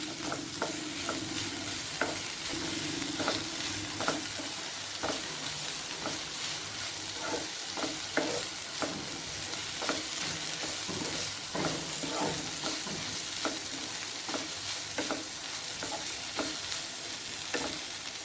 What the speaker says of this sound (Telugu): అల్లం వెల్లుల్లి పేస్ట్ వేసి బాగా ఫ్రై చేసుకోవాలి